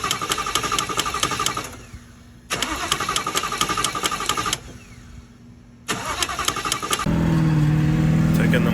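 A 2018 Ford Mustang with a turbocharged Coyote engine and 10-speed runs in bursts, with loud engine sound cutting in and out twice before a steady, deeper drone settles in at the end.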